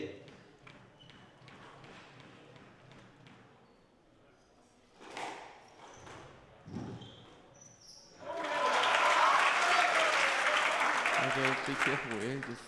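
A crowd at a squash match between professional players breaks into loud, sustained applause after a point, rising suddenly and holding for several seconds, with a commentator talking before and through it.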